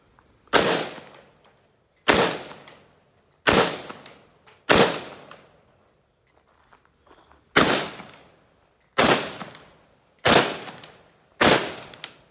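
Eight single shots from an XM16E1 rifle crack out at an outdoor range, each sharp report trailing off in a brief echo, spaced about one to one and a half seconds apart with a longer pause midway.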